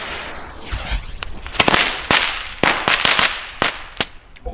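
Knallfrosch jumping jack firecrackers from a family fireworks assortment, going off outdoors as a string of sharp, irregular bangs and crackles, some loud and close, others lighter pops, with no talking.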